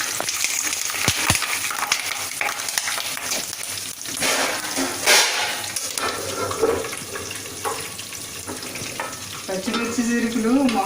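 Green chilies sizzle and crackle in hot oil in a pan while mango pulihora is being prepared, a steady close frying hiss with sharp pops and stirring, and a faint voice near the end.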